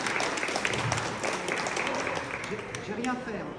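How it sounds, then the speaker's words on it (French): An audience applauds a guest being introduced at an after-work business event, steady clapping filling the whole stretch with a voice talking over it. "Avec vos applaudissements, s'il vous plaît."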